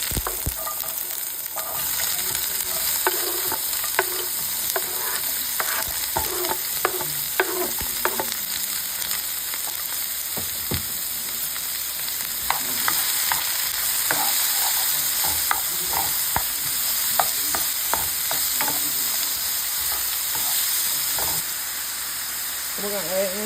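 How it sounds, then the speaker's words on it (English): Chopped bell peppers and onions frying in oil in a skillet, a continuous close sizzle and hiss with frequent scraping stirs, someone talking over it at times. "Now we got our oil going in the skillet. We're about to add these peppers and onions in here."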